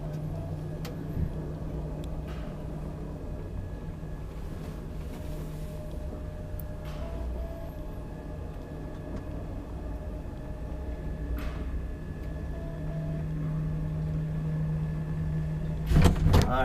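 An old Kone traction elevator, nearly 60 years old, in a Helsinki apartment building, running with a steady low mechanical hum and faint whirring, ending in a few brief clunks.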